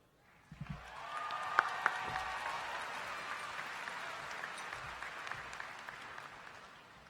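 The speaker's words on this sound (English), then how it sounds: "Thank you for honoring each graduate with your applause." A large audience at a 2017 Grapevine High School graduation ceremony applauds, the clapping swelling after a second and holding as a steady, dense wash of hands until the end.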